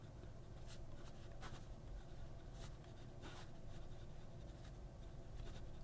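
A Talentum rollerball pen glides over paper in quiet, close scratchy strokes, with a few brief louder swipes standing out against a low background hum.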